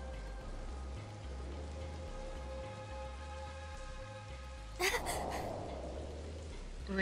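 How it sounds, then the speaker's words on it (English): Steady soft rainfall patters in the video game Soul Hackers 2 beneath a low droning music bed, with a brief louder burst of sound midway before the gentle rain continues. "just started raining over here"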